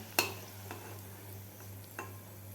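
Cabbage vadas fry in a pan with a soft, steady sizzle, punctuated by a sharp metallic clink of a utensil and a few light taps, with no one talking.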